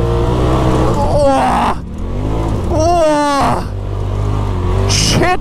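Polaris RZR buggy engine drifting on a cross track: loud, close, rising and falling revs with pitch sweeps that swell and drop across the stretch.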